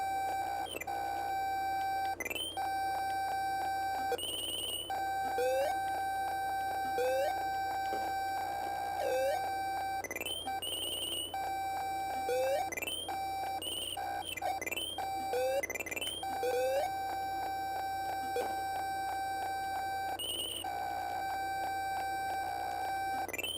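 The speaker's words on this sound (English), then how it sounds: "And now it's just beeping annoyingly." A glitched video game, its memory corrupted, emits repeated electronic beeps and bleeps in an irregular rhythm over a steady tonal drone, with no talking.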